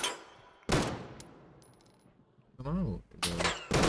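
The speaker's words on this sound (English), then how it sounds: "Where he shooting from?" Video game gunfire bursts out in a few sharp, loud volleys separated by quieter gaps, with someone speaking briefly between the shots.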